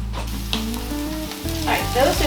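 Onions and garlic sizzle steadily in a pan for shepherd's pie, a loud, continuous close frying hiss with a few faint stir scrapes and no voices.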